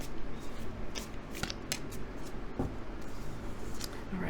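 A deck of Angels and Ancestors oracle cards being shuffled close by, soft papery riffles and flicks with scattered sharper snaps, steady and quiet with no talking.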